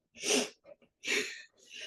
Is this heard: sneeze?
yes